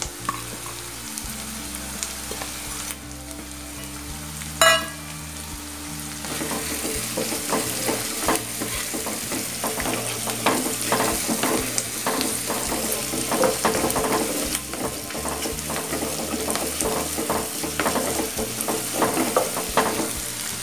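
Onion and garlic sautéing in hot oil for a Tamil brinjal gravy, sizzling steadily throughout with occasional stirring scrapes and a brief clatter near the start; no talking.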